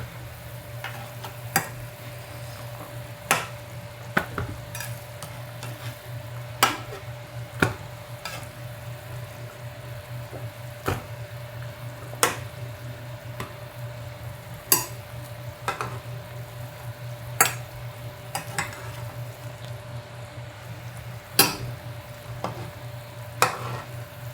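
Vegetables are lifted out of a simmering pot of tchep sauce with fish while it is stirred, giving sharp, scattered clinks of a utensil against the pot over a low, constant bubbling hum.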